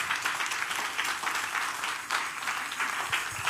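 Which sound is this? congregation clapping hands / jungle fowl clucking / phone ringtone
congregation clapping hands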